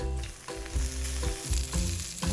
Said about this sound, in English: We're gonna hit this thing, sear it hard for 4 minutes.